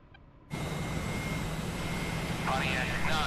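An F/A-18 Hornet in DCS World starting up: after a brief quiet moment a loud steady turbine roar cuts in, with a rising whine sweeping up near the end; a radio voice may sit under the engine noise.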